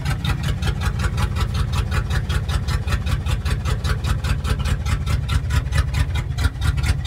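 A 1958 Viking 40 outboard motor runs steadily in cold weather, a loud, continuous idle with a fast, even firing rhythm and no voices.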